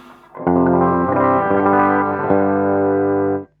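An electric guitar plays through a vintage 1952 Fender 600 tube amp with its original 70-year-old filter capacitors: a loud, gritty, overdriven chord rings out, shifts a few times, then sustains before being cut off cleanly.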